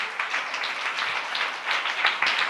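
A church congregation claps during a sermon, a dense, steady round of applause from many hands in the hall, moderately loud and sustained.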